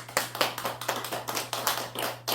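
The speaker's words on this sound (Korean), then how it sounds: "박수." A small church congregation claps together for an elderly member, giving a brisk, fairly close burst of hand claps that lasts about two seconds, with no voices over it.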